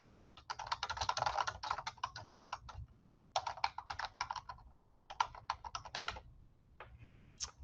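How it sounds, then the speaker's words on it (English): Keys clatter on a computer keyboard as a short message is typed, in quick bursts of soft clicks separated by brief pauses, close and fairly quiet. "But you can type in a little message."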